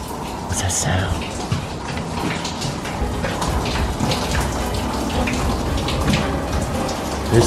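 Water rushing and splashing around an old boiler in a dark basement room of an abandoned asylum, a continuous rain-like patter and flow heard up close, with voices talking over it.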